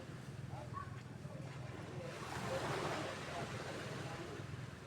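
Sea waves washing in at a beach where someone is spending the whole night, heard as a steady broad wash with a gentle swell in the middle, mixed with wind rumble and faint background voices.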